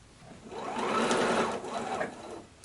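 A sewing machine runs a quilting stitch in one continuous whirring burst that rises, holds and tapers off, close up with no talk.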